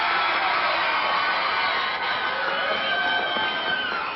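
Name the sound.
wrestling crowd cheering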